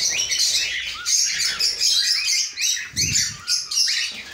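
Cockatiels in a breeding setup chirp in quick, bright, repeated calls, close and fairly loud, with a short lower-pitched squawk near the end and no talking.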